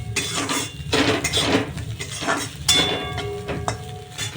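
Raw shrimp mixed with salt and turmeric is stirred by hand or spoon in a bowl, giving close, wet squelching and scraping sounds and a few light clinks in uneven strokes.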